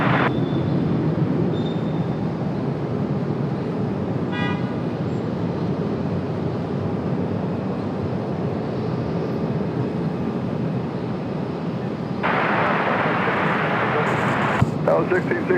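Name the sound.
United flight 630 airplane departing RDU for Chicago O'Hare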